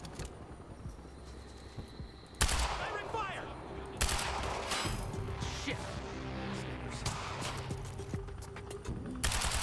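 Gunfire from snipers in the video game Quantum Break, sharp bursts of shots that start abruptly and repeat in loud clusters over rumbling background noise and game effects.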